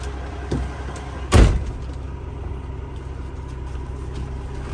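Truck cab door on a tractor-trailer during a pre-trip inspection, one solid slam near the middle over a steady idling engine hum, with a lighter knock just before.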